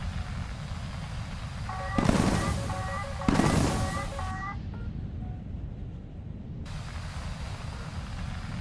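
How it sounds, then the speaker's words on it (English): Two sharp launch whooshes from missiles fired at a Gripen E jet in a combat video game, set against a steady engine drone with short tonal beeps, fairly quiet overall. "Something behind me is launching missile after missile at me right now."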